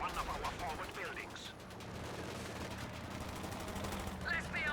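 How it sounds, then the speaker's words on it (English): A machine gun bunker fires in a Company of Heroes 2 battle, giving sustained rattling automatic fire with distant explosions beneath, while a commentator talks over it. "We do have a machine gun bunker here."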